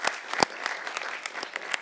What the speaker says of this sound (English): Let's give a big round of applause to the panel here